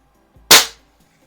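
A single sharp shot from a repaired Smith & Wesson 79G air pistol, loud and close, with a brief click just before and a quick fading tail.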